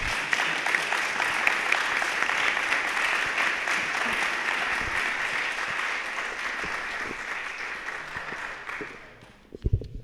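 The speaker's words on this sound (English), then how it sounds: "another round of applause," Conference audience applauding, a dense sustained wash of clapping that holds steady for most of the clip before thinning out and fading near the end.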